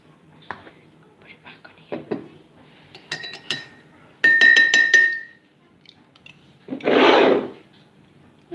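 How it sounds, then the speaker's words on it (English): A drink stirred in a glass: bright clinks and a quick run of rapid spoon rattles against the rim, between soft handling knocks and a short rushing pour-like burst, close up. "Give it a nice stir."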